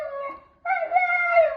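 A small puppy cries and howls in two long, whining, tonal wails close by, the second louder and steadier after a brief pause.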